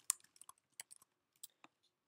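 Computer keys are tapped in short irregular bursts of sharp, close clicks separated by brief pauses, with no talking.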